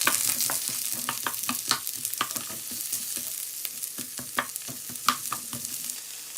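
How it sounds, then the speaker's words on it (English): Onions and other vegetables stir-fried in a pan for a meat dish, a constant close sizzle broken by frequent sharp scraping and clacking strokes of the utensil. "So stir frying the veg for the meat dish."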